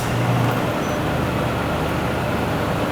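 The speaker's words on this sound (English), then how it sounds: "Now you can start your vehicle." A Nissan NV2500 van's 5.6L V8 idles steadily after starting, a continuous low engine rumble held at even loudness with no talk over it.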